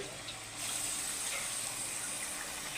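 Water is poured from a rinsed bowl into a pot of mutton curry, a steady close gushing splash that holds at an even level with no talk over it.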